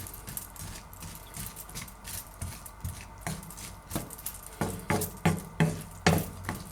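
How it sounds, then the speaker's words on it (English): Homemade bolognaise sauce with garlic is stirred in a pan, with a steady scraping rhythm that grows into sharper, regular knocks of the utensil against the pan toward the end. "Give it a good stir."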